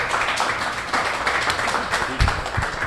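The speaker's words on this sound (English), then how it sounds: "give him another round of applause" An audience at a tax business bootcamp breaks into applause. The dense, steady clapping fills the whole stretch at fairly close range, with a few louder claps and thumps standing out near the end.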